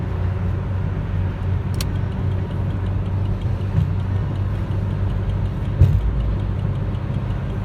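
A car passes on the right in an Amazon parking lot, heard as a loud, steady engine rumble from inside a vehicle with a few faint ticks and a brief thump, no talking.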